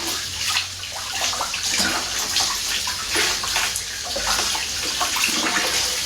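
Hands are washed under a running tap, with steady splashing water and uneven rinsing bursts throughout, close and moderately loud, no talking.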